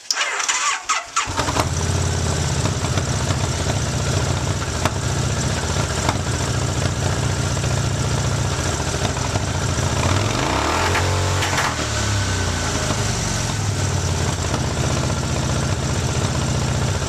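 An engine cranks over briefly, then catches and settles into a loud, steady, rattly idle with a rough, Harley-like character that carries on alone for the rest of the clip.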